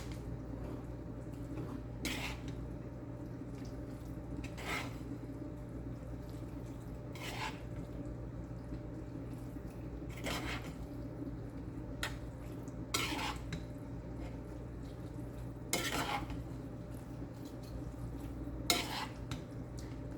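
Ingredients for an old southern dish being mixed in a bowl: soft steady stirring under a low hum, punctuated roughly every few seconds by sharp clinks of a utensil against the bowl.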